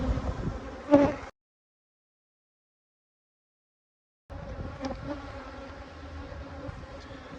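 Honey bees buzz steadily around hives in a beeyard kept for mesquite honey, a continuous insect drone that cuts out completely for a few seconds before resuming.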